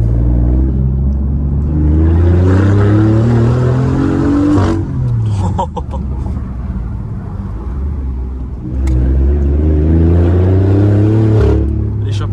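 Loud, raspy exhaust of a Liberty Walk BMW i8 hybrid, revving repeatedly with rising engine tones and sharp crackles between pulls, close to the listener.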